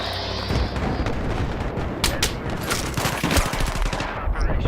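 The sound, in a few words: gunshot in the video game Battlefield 3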